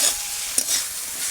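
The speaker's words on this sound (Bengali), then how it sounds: "ঢাকনাটা খুলে আবার একটু ভালোভাবে আমি নাড়িয়ে নেব।" Potatoes and green peas are stirred in a frying pan once the lid comes off, a soft steady sizzle with one sharp utensil scrape partway through, close and alone without talk.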